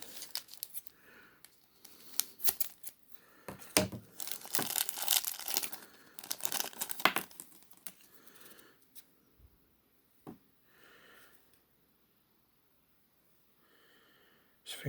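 A plastic accessory bag for a 1:18 scale action figure is cut and torn open, with crinkling, tearing and snipping in bursts, some loud, then trailing into sparse rustles and quiet.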